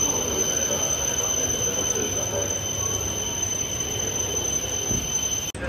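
A Hayabusa bullet train pulls into a station in Japan, giving a steady loud rolling rush with a high whine across the whole span, ending in a brief thump.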